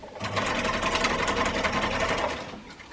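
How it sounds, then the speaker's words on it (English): Sewing machine running steadily as it stitches a quarter-inch seam on fabric, a close, even mechanical whir with rapid needle chatter that stops near the end; no speech. "we are going to stitch a 1/4 inch seam as normal"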